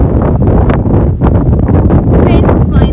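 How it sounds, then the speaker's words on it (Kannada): Strong cold wind at a beach roars loudly and steadily across the microphone, a dense buffeting rumble with no pauses. "ಗಾಳಿ ನಮ್ಮನ್ನು ತೆಗೆದು ಬಿಸಾಕುವಷ್ಟು ಜೋರಾಗಿ"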